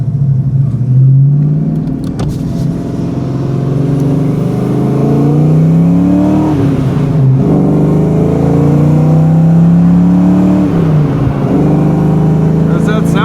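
A 36-year-old Foxbody Mustang, freshly restored, with new wheels and tires, pulls hard down a highway. Its engine note climbs steadily, drops at each shift, then rises again in a loud, continuous drone heard from inside the car.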